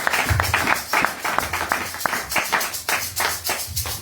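A church congregation applauding, a scattered run of sharp individual claps in an uneven rhythm that swells and fades over a few seconds, close and moderately loud, without clear cheering voices.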